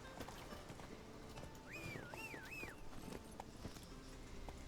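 Roach, a horse in The Witcher 3, moving with a quick rhythmic clip-clop of hooves. A rising and falling whinny-like cry is heard midway, faint against a busy game background.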